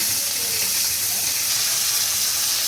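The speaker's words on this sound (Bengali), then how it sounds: "বাট আমি একসাথেই দিয়ে ভেজে নিচ্ছি মাছের মাথাটাকে" A hilsa fish head frying in hot oil: a steady, bright sizzle and hiss, close and even, running continuously without pause.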